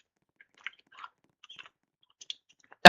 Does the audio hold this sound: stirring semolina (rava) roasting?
no